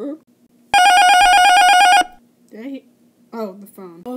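Toy-style Lego Batman phone rings with one loud, continuous trilling electronic bell burst lasting over a second, then brief voices follow.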